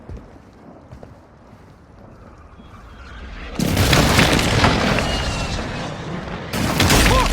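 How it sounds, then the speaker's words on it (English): Precision airstrike explosions in Warzone Mobile arrive as two sudden, loud, broadband blasts, the first sustained for several seconds and the second cutting in near the end, after a quieter rumbling buildup. "Enemy precision airstrike."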